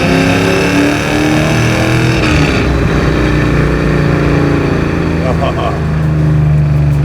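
Eleanor Mustang from Gone in 60 Seconds, a car of roughly 500 horsepower, accelerating hard; a loud, close engine roar with a rising, strained tone and a brief gear-change dip, while people talk in the cabin.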